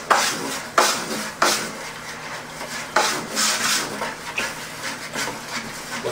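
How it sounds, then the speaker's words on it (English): A spoon stirs blonde lager wort in a brewing pot, giving repeated scraping, swishing strokes at an uneven rhythm, close and moderately loud with no talking. "so now we'll give her a good stir, make sure everything's all mixed up good"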